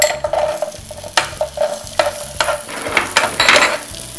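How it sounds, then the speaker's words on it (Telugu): Raisins frying in a pan for a sweet give off a continuous sizzle, broken by repeated close scraping clicks as they are stirred. "కిస్మిస్ కూడా ఫ్రై చేస్తున్నాను."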